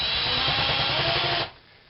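A drill runs at a slower speed, boring a clearance hole into wood on a Kalamazoo amp cabinet, giving a close, steady whirring grind that stops abruptly after about a second and a half.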